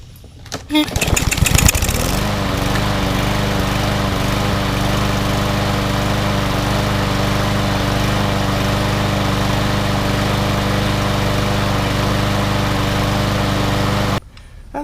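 A small walk-behind lawn mower engine, just fitted with a rebuilt carburetor, sputters to life, then runs loud and steady for about twelve seconds before cutting off abruptly.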